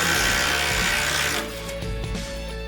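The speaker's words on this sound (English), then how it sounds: "Just tearing up this nut pretty good." A nut is torn loose by a DIY-brand impact wrench rated at 200 foot-pounds, giving a loud, dense rattling hammer for about a second and a half before dropping to a lower, steadier mechanical whir.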